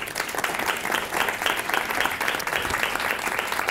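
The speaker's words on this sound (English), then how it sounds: "How about applause for all of our people?" A crowd claps continuously, dense and even applause that holds steady throughout without any break.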